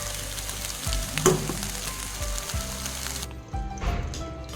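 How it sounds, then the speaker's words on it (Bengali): Potatoes fry in hot refined oil in a wok, with a steady close sizzle broken by bursts of crackling as pieces are stirred, and a brief clatter of utensils; no talking. "তেলে গরম হয়ে গেছে এখন আলুগুলো ভেজে নেব"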